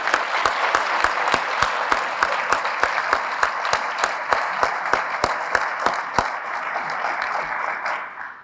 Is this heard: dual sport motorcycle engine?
no